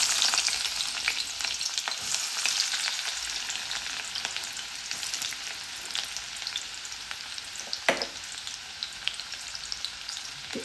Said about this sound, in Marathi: तेल गरम झालेलं आहे तर ह्याच्यामध्ये मी कांदा घालून घेते